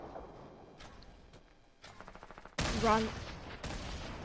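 Video game gunfire, a few sparse distant shots followed by a loud burst of rapid fire that continues in bursts, with a player's voice speaking briefly over it.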